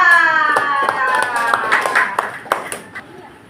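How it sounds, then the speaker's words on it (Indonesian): Scattered hand claps in a primary school classroom ring out for a student discussion group, a few sharp individual claps growing sparser, while a voice speaks and fades underneath. "Mari kita tepuk tangan untuk kelompok 4."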